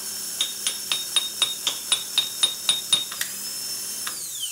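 A rebuilt Honda starter motor runs on a bench with a steady high whine, struck by a small tool in a quick series of about a dozen evenly spaced metallic taps before winding down.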